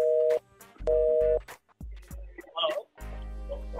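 A phone call breaks up over a poor network, with repeated beeping busy tones, brief garbled bits and crackle between them.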